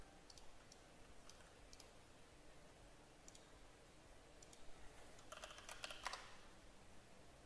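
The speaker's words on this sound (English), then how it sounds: "My keyboard is so loud, it's really nice." A loud computer keyboard clacks in scattered bursts of keystrokes, quiet and close, with a quicker flurry of typing near the end.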